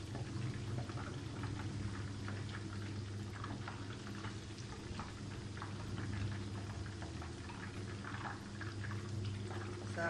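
Chicken chilli pakora sizzling in hot oil, a steady dense crackle and bubble throughout at low level, with no voices.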